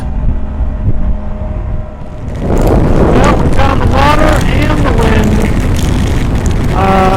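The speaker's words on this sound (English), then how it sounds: "I actually have the bike something like this because it's so windy." Loud wind buffeting rushes over the microphone while riding a BMW R1250GSA motorcycle, swelling stronger partway through, with rumbling noise and a voice speaking underneath.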